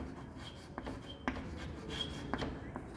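Chalk or marker scratches across a classroom board during an accountancy lesson, a few short rubbing strokes with brief taps between them, quiet and close in a calm room.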